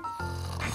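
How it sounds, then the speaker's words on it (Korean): A son snores in his sleep, giving one short, rough nasal snort close to the listener that rises into a buzzing rattle. "엄마 못지않게 코를 골았던 아들"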